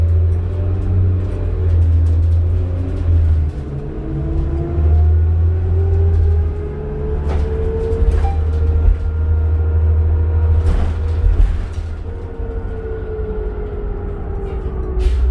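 Interior of a 2007 New Flyer D40LF diesel city bus on Calgary route 12, a steady low engine drone and road rumble with rising whine as it accelerates, occasional rattles and clunks throughout, no talking.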